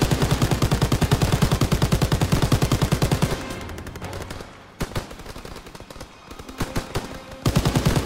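A mounted turret machine gun fires in Call of Duty WW2 in rapid, loud, continuous bursts for about three seconds. A pause with scattered distant shots follows, then the fire resumes briefly at the end.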